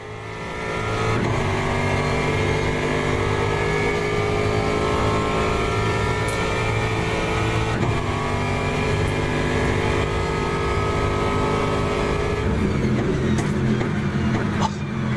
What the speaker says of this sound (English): Just listen to this. We're in the brand new Aston Martin.